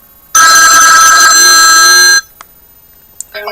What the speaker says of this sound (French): Et là vous avez SIM 1, donc appel entrant, sonnerie, modifié.